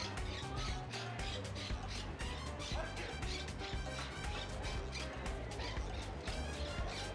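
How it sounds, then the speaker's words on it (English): Parrots squawk nonstop in a dense, harsh chorus at a waterside spot in Cape Coral, loud and continuous throughout with no pause. "you listen to those parrots, they're going crazy."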